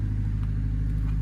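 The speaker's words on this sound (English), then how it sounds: "but they got a generator there from my neighbour" A neighbour's generator runs with a steady, droning engine hum and faint clatter. It plays close and continuous, with no talking.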